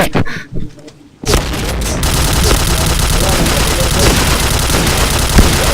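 Gunfire in the online shooter game Point Blank: a few scattered shots and a short lull, then a loud, dense, sustained stream of rapid automatic fire that continues without a break.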